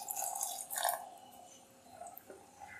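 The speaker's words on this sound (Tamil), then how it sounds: "கிரேவிக்கு தேங்காய் அளவுக்கு தண்ணி சேர்த்து மிக்ஸ் பண்ணிக்கலாம்." Water added to a chickpea kurma gravy mixture gives a few soft splashes and drips, faint and close, with a quieter trickle afterward.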